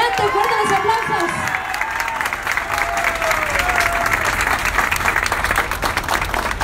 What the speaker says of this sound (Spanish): Adelante, fuertes los aplausos.